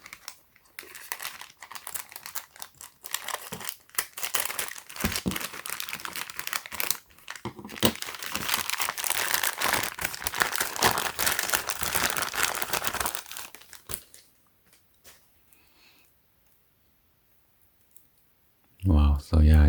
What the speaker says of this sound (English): unwrap this.